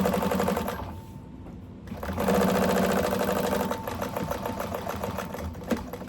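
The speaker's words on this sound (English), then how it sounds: "So I'm going to go ahead and top stitch again 1/8 of an inch from the raw edge, the bottom of the trim piece." A sewing machine runs steadily and loud, topstitching trim an eighth of an inch from the raw edge. Its rapid, even needle chatter dips briefly and then resumes at full speed.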